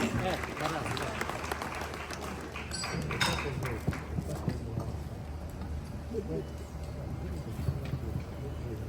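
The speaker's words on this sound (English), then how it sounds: "A round of applause for Nana Jubile" An audience at a grand, formal event held by Otumfuo Osei Tutu applauds as Nana Jubile is called up for the opening remarks, a dense, steady wash of clapping that runs throughout beneath an ongoing voice.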